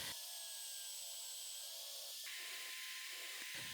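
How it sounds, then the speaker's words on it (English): Holes are drilled into an aluminum fence profile, making a continuous, close, high-pitched whine and grind that shifts in tone partway through and briefly dips near the end. "I drill the necessary holes to attach it to the workbench."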